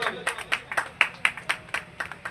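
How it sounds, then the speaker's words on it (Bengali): Audience members clap at a village panchayat welcome ceremony, a brisk run of sharp handclaps in a steady, fairly even rhythm. The clapping sounds close and moderately loud, like a modest crowd in an open gathering. "সকলে একটু জোরে হাত তালি হবে"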